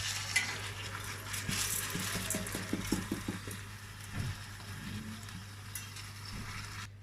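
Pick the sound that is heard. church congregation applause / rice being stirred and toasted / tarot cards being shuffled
rice being stirred and toasted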